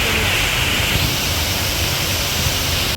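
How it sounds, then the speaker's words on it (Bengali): A waterfall in the Ajodhya hills of Purulia, West Bengal, gives off a loud, steady roar of rushing water heard close up, broad and unbroken for its whole length. "ফলসের সামনে আমরা পৌঁছে গেছি"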